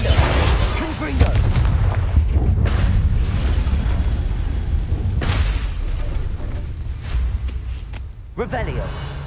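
Explosion spells going off in the Hogwarts video game: heavy booming blasts with deep rumbling low end, several loud bursts spread over the stretch, overlapping with constant game noise and a voice speaking.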